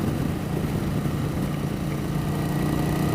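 A 1988 Yamaha XV1100 Virago V-twin motorcycle with 41,000 miles idles steadily nearby, giving a continuous low rumbling throb with no breaks.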